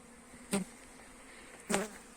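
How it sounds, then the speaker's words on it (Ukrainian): A continuous buzzing of many honeybees flying around their hives close by, with two louder buzzes as individual bees pass near. "Бджола вся літає гарно"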